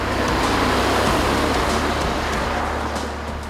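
A Lexus CT 200h F Sport hybrid coasts downhill on a mountain road off the throttle, heard as a steady in-cabin road and tire rumble with a low drone that eases slightly at the end, no voices.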